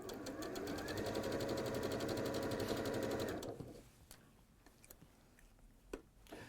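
Sewing machine stitching the armhole hem of a dress, a fast, even mechanical whirring drone for about three seconds that stops abruptly, followed by quiet clicks and handling sounds.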